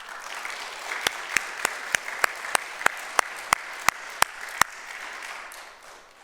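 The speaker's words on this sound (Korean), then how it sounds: "여러분 박수 한번 해주세요" A church congregation at a Sunday service applauds with a steady wash of clapping, and a run of sharp, evenly spaced claps stands out above it at a regular beat before the applause fades.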